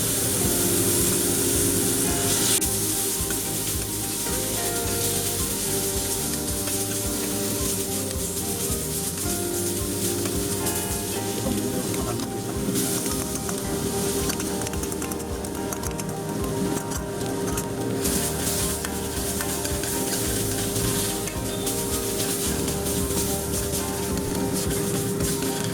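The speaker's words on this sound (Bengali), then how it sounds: "আগে আমি পেঁয়াজটা দিয়ে একটু কষে নেবো" Onion paste frying in a pan for a Bengali doi rui (rohu fish curry) makes a continuous soft sizzle and spattering over a steady humming background, fairly quiet and unbroken, with no voices.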